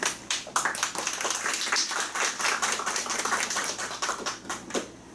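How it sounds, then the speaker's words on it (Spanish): Audience applause welcoming a speaker at a parliamentary training session, heard as sharp, distinct hand claps in a brisk, uneven rhythm, fairly close and moderately loud, with no talking over it. "para la cual les solicito un fuerte aplauso"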